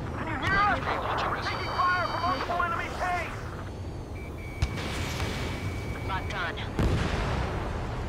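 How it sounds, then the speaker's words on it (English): Heavy explosive blasts and rumbling gunfire from enemy tanks in the combat flight game Ace Combat 7, dense and continuous with layered engine roar, warning beeps and radio voices over the battle. "Taking fire from multiple enemy tanks!"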